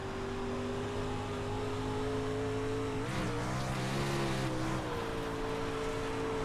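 Race car on a dry, slick dirt track, its engine holding a steady loud drone with a brief dip and surge in revs midway as the driver feathers the throttle, then settling back to a constant roar.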